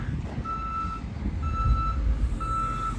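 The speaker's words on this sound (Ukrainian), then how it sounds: "Це Вольвовський під'їхав, бачите?" Reversing beeps from a Volvo truck pulling up sound three times in a steady, evenly spaced rhythm. A rumbling engine and low road noise run underneath throughout.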